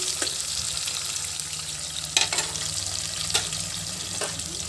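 Onions frying in a pan for pulao, a steady close sizzle broken by several sharp scraping stirs spaced a second or so apart, with no voices.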